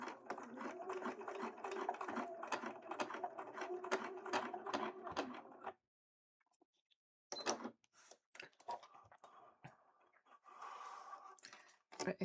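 A sewing machine stitching seams on a Link cosplay costume from Twilight Princess runs noisily with a fast, rattling mechanical whir, then stops into silence before resuming in shorter, uneven bursts, with faint breathing nearby.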